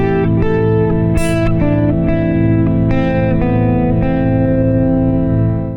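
Electric guitar with effects plays a short melody of distinct picked notes, each stepping to a neighboring tone and back, over a sustained droning background, clear and close without any voice.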